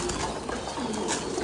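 Pigeons on a pigeon farm, soft low cooing murmurs running through a busy background hiss, with a voice talking faintly alongside.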